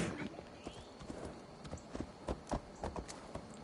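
Horse hooves clip-clop in Assassin's Creed Valhalla, a steady walking rhythm of hoofbeats on the ground, fairly quiet and close, with no talk over it.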